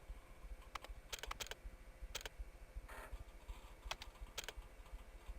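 Quiet computer keyboard typing comes in short clusters of crisp key clicks with gaps between them, over a faint steady background hum.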